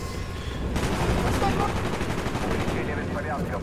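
Dense rapid gunfire in the Call of Duty: Black Ops campaign, loud continuous automatic bursts with booming reports layered under shouted voices.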